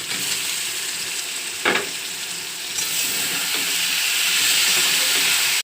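Soya chunks sizzle and hiss steadily in a hot pan for a vegetarian soybean and potato curry, with a brief clatter of stirring early on and the frying growing slightly louder toward the end.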